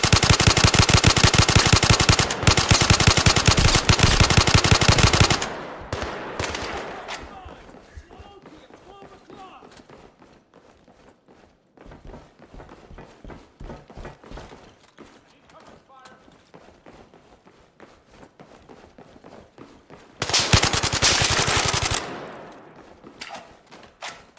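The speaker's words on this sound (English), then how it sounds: "I'm using a machine pistol for a job that requires a rifle." Rapid bursts of machine pistol fire from the shooter game Zero Caliber, loud sustained strings of shots opening and closing the stretch, with quieter scattered pops, footsteps and clatter in between.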